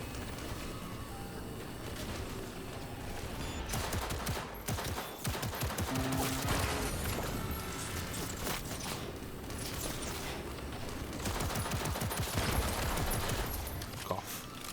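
Dense gunfire in the video game Cyberpunk 2077: a sustained, loud barrage of rapid shots and mechanical clatter going on for about fifteen seconds, with some speech mixed in beneath.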